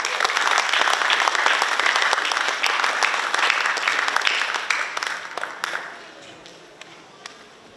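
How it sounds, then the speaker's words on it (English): Audience applause at a graduation ceremony for PACMED Pioneers in Pohnpei, a dense, loud wash of many hands clapping that holds steady and then thins out and fades over the last couple of seconds. "I think we should give you a hand of applause"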